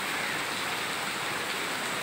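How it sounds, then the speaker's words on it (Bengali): Steady rain pours down as a dense, even hiss at close range, heavy and unbroken throughout with no voices. "দেখছো একটু আগে বৃষ্টি কমছে এখন আবার বাড়ছে বৃষ্টি"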